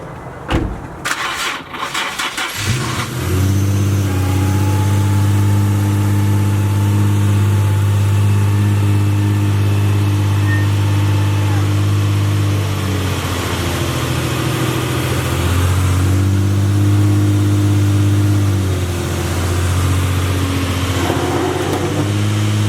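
A Nissan 350Z fitted with an angle kit starts up and then runs steadily with a deep, loud engine hum. The note dips and rises slightly as the car moves, and no voices are heard.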